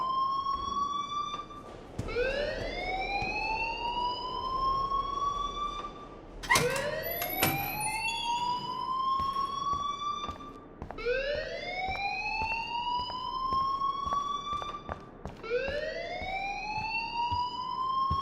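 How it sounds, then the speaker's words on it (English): Fire alarm in the Life Is Strange video game sounds as a loud electronic whooping siren, rising sweeps repeating about every four seconds, steady and continuous with no talk. "please turn off that alarm since that's your job"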